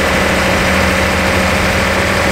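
Classic Nissan Skyline Hakosuka engine running at raised revs, a loud, steady, dense mechanical drone with a constant low hum and no voices.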